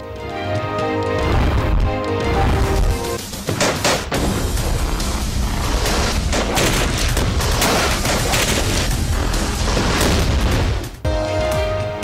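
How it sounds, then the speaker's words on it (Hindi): Gunfire during an attack on a security checkpoint in news footage, a dense, loud barrage of shots and booming bursts with crashing noise, continuous and intense throughout, no talk. "हमलावरों की फायरिंग से सिपाही फरमान शहीद हो गया।"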